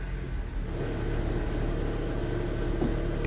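A Honda HR-V engine idles steadily with a low, continuous hum while its CVT is moved through reverse, neutral and drive, the tone staying even and close with no voices.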